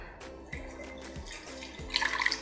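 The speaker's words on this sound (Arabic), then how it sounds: "حوالي معلقة صغيرة من الخميرة حطها مع مقدار نص كوباية أو ربع كوباية مية دافية" Warm water poured onto about a small spoonful of yeast in a home kitchen: a short, close trickle of liquid that grows into a brighter splashing stream near the end, with no talk.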